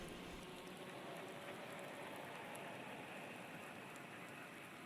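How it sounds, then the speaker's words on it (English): Rain falling on a wet track in a Ginetta GT5 Cup racing video game, a steady even hiss of light rain that holds without a break, soft and constant. "you can hear that rain coming down at the moment"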